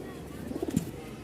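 A pair of Rajshahi hand-flying pigeons, a black male and his mate, gives a short, soft burst of cooing midway through an otherwise quiet, low background.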